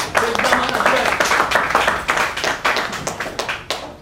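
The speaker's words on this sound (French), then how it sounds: "On applaudit pour lui." Loud, close clapping from an audience at a political gathering in Congo, with dense and uneven claps throughout and voices mixed in among them.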